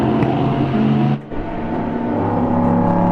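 GT race cars at Autodrom Most circuit in the Czech Republic, engines droning loudly and steadily with a short dip in the middle as a car overtakes near the penultimate corner.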